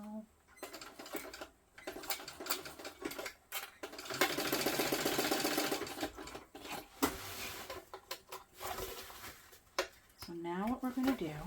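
A sewing machine runs in bursts as it stitches the side seams of a Lola bag together, with a longer steady run in the middle, and a voice talks over parts of it.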